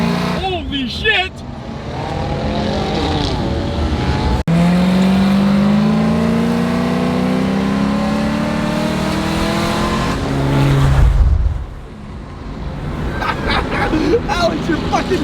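A Cadillac ATS-V fitted with a ported throttle body accelerates hard, its engine note climbing in a long rising pull before the revs drop. People talk and exclaim over it at the start and the end.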